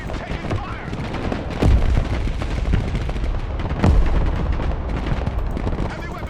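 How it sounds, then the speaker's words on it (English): Battle gunfire in the video game Broken Arrow, a continuous rattle of shots with two heavy, booming blasts standing out, while voices talk over the combat noise. "Heavy weapons team taking fire."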